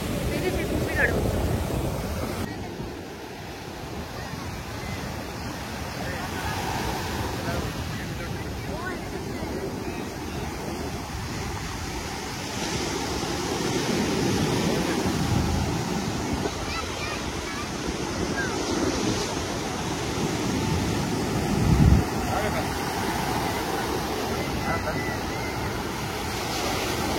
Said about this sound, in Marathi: वरती आता संध्याकाळी खूप हाईट आहे लाटाची